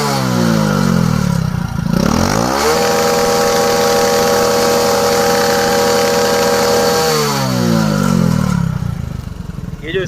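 A Hero Passion Pro motorcycle engine, fitted with a changed carburetor, runs close by, idling and then revving up and holding a higher steady drone before settling back down.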